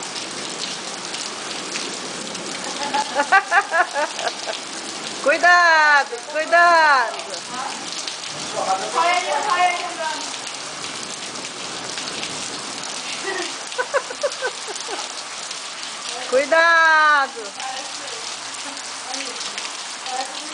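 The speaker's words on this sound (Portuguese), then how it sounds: "Olha a chuva. Olha a quantidade de água, gente." Heavy rain pours onto a street in Palmas, Tocantins, a loud, constant hiss and spatter, while people call out warnings in short bursts over it.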